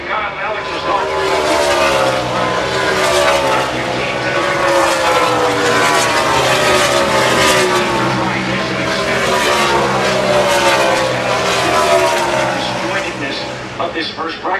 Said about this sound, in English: This is the last time that they get to try and put the car through its paces around the racetrack.